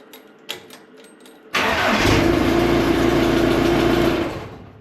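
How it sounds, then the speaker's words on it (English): A homemade tractor loader's engine cranks briefly after a few faint clicks, then catches and settles into a steady, loud idle that holds for a couple of seconds before fading slightly. "If the schematics on the ignition lock is correct, the loader should start up."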